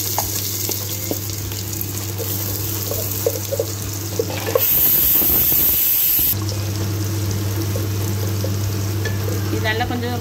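Shallots frying in a pan for mutton kulambu, a steady close sizzle with stirring scrapes throughout, briefly swamped midway by a louder rush like running tap water before the frying resumes.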